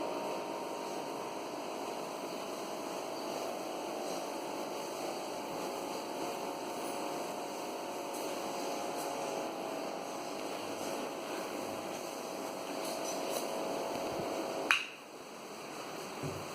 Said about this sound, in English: my project vacuum cleaner, and which I've made with the help of bottles